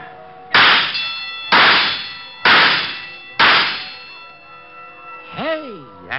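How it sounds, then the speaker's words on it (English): Four sharp metallic clangs at a carnival shooting gallery come at an even pace, each ringing out and fading like a struck target bell, followed by a brief warbling tone. "so we stopped at the shooting gallery"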